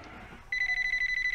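A telephone rings in the Sub Rosa video game, a bright electronic trill that cuts in abruptly and pulses rapidly and steadily at close range over low background noise.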